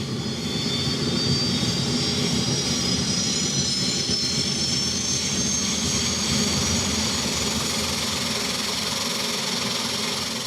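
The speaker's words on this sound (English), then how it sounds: "Vava, and members of the Air Transport Wing witnessed the engine start sequence of the aircraft" CASA 235 military transport aircraft of the Air Transport Wing running its engine start sequence, a loud, steady turboprop roar with a rising high whine that holds throughout, heard close with no talk.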